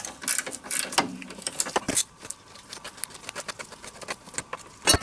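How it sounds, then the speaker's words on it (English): A 13 mm socket or combination wrench ratchets and clicks while side bolts come off the cooling fan bracket of a DeLorean, with a series of sharp, close metallic ticks and knocks in an irregular rhythm. "Then you're going to want to start removing these side bolts as well. Again, a socket or a combination wrench."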